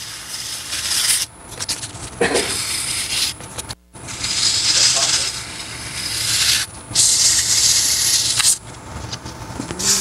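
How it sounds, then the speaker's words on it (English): Abrasive paper rubbing against a spinning wood-turned piece on a lathe at slow speed, a loud steady hiss broken by brief pauses as the sanding is lifted and reapplied. "I'm just kind of sanding off any little bump."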